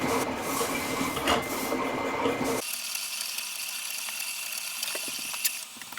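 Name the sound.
Siser cutter machine cutting cardstock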